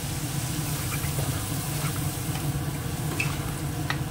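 Chili powder with water in a hot pan sizzles and hisses steadily at close range, a continuous even frying sound with occasional small pops and stirring scrapes, no talking.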